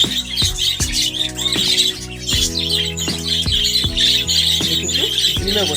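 Loud, busy chorus of budgerigars chirping and squawking close by, a constant overlapping chatter with sharp repeated calls throughout.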